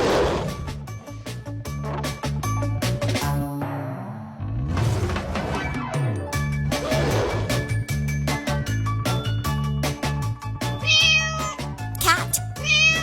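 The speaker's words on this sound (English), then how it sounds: "Cat." A cat meows repeatedly, loud and close, mixed with music-like sound and other noises throughout.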